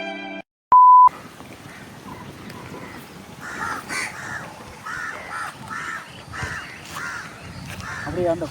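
A crow caws repeatedly in a park in Sri Lanka, a string of harsh, mid-distance calls in an uneven rhythm over outdoor background noise, after a short electronic beep at the start.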